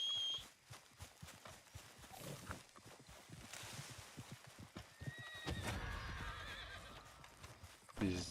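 Horse neighs and whinnies in Red Dead Redemption 2, with clip-clopping hooves underneath and someone talking over parts of it; a louder whinny rises near the end.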